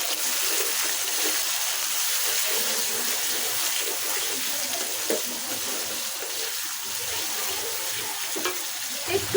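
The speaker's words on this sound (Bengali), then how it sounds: "এখানে বড় বড় চিংড়ি মাছগুলি আমি কেটে নিয়েছি। বিসমিল্লাহ। একটু হালকা ভেজে দেব।" Large cut shrimp fry lightly in a hot pan, giving a steady, close sizzling hiss that continues without a break, with faint stirring scrapes underneath.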